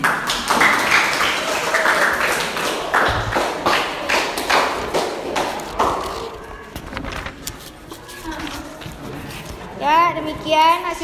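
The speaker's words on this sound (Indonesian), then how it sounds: "Kita tepuk tangan." A classroom group claps together after a group presentation, a dense burst of hand claps with children's voices chattering over and after it.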